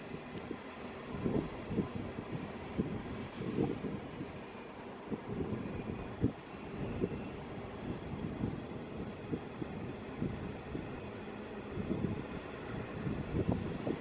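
A very long iron ore freight train on the Sishen–Saldanha railway line rumbles past, with a continuous rolling roar and repeated clanks and thumps of wagons, heavy wind buffeting throughout.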